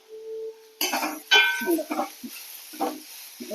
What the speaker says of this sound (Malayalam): ഇതൊന്ന് നന്നായിട്ട് വറന്ന് വരും നന്നായി ഇളക്കി കൊടുക്കാം